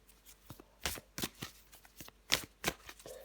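Tarot cards being shuffled and drawn, a series of crisp riffling and slapping bursts in an uneven rhythm, close and fairly quiet, with no talk over them.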